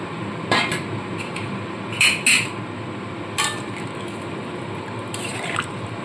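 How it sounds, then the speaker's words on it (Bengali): Pieces of fried boal fish head dropped into a metal cooking pot, a few sharp clanks and sizzling splats spaced irregularly over a low, steady background hiss. "ভেজে রাখা মাছের মাথা আমি একবারে দিয়ে দিচ্ছি"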